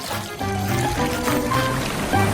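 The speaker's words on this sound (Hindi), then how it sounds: "उसमें नीला पानी भर देती हूँ।" Blue water is poured onto a decorated cake, a steady trickling stream over a continuous background of music.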